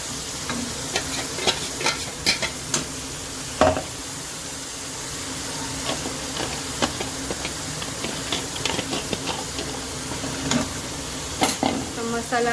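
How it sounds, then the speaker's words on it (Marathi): Finely ground masala and chopped tomato fry and get stirred in a pan for chicken bhaji, a steady low sizzle broken by frequent scraping spatula strokes, close up, with no talking. "मसाला हा असा मस्त परतून छानसा घेऊया, जेणेकरून भाजीला असा छानसा कलर येईल."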